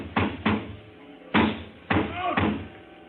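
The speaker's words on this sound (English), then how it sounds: "I went to the door, banged on it." Banging on a door as a radio drama sound effect: several heavy thuds land close in uneven clusters, with faint background noise between the blows.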